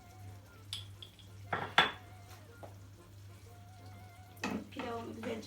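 A spoon stirs chicken rice pilaf in a cooking pot, making a few faint scrapes and two brief clattering knocks against the metal over a quiet, low hum.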